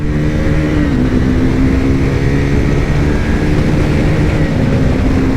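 Two motorcycles, a Honda NS400Z and a Triumph Speed 400, accelerating hard in a drag race, a loud, continuous engine drone with steady harmonic tones holding close and full throughout, no voices.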